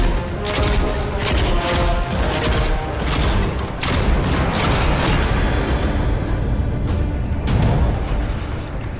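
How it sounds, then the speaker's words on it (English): Viscous cannon bombs burst in the Nosgoth video game, a dense run of heavy booming blasts and crashes piling up over several seconds, loud and continuous. "viscous cannon bombs don't explode on impact, instead detonating a few moments after its adhesive properties take hold"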